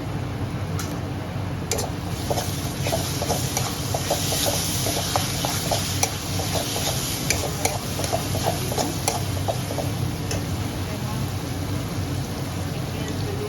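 Ginger-garlic paste sizzles in hot oil in a pan during biryani cooking, a steady frying hiss with scattered soft ticks and light stirring scrapes throughout.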